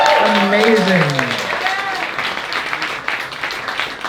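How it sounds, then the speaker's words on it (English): An audience at a live event breaks into applause, a dense burst of clapping that gradually thins and fades, with a voice speaking briefly as it begins. "Let's have a round of applause."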